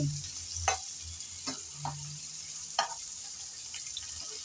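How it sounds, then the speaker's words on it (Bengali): Shrimp sizzle in a pan with onion and garlic, a steady frying hiss broken by light scraping taps as the mix is stirred, close and moderately loud. "আমি সময় কম লাগার জন্য পেঁয়াজ রসুনের সাথে একসাথেই ভেজে নিচ্ছি।"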